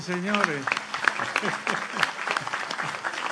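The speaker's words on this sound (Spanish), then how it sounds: "Denle el aplauso a esa gente" A crowd at a celebration marking 60 years of the San Pio X seminary applauds a group of people, the clapping rising under someone speaking Spanish who keeps talking throughout.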